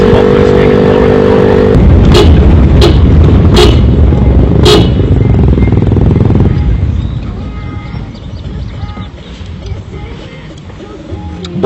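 A quad bike engine roars loud and continuous, with a steady harsh drone that eases slightly toward the end, while people talk over it.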